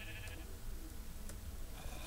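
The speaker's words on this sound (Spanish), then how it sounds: "Me sigue la oveja." Sheep bleating in a survival video game, short calls over a steady low game rumble, with a couple of brief bleats standing out near the start and middle.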